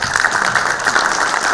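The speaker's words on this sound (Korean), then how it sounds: "박수 한번 주세요." Audience applause at a Korean U-Healthcare forum and seminar, a short steady wash of many hands clapping at once, even in level throughout with no voices standing out.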